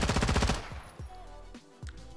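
Automatic gunfire with egg tracer rounds in Warzone 2, a fast burst of loud shots followed by a few sparse thuds and game effects, near and alone.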